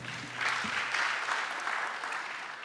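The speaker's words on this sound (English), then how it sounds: "A round of applause to my panel." An audience claps for a conference panel on geopolitics at Makerere: a dense, even round of applause lasting a few seconds, close and fairly loud, with no talk over it.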